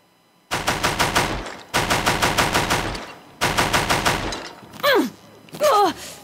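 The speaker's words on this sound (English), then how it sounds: "I kind of like the Deathbringer gun." Rapid bursts of automatic fire from the Deathbringer gun in the video game Horizon Zero Dawn, three loud rattling volleys of evenly spaced shots, then two sweeping whooshing effects.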